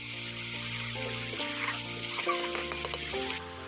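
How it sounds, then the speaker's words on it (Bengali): Meat being stir-fried in a pan, a steady sizzle with scraping and stirring strokes running throughout, close and continuous, with a faint background hum and no talking. "এদিকে আমি মাংসটা ভালোভাবে কষিয়ে নেব।"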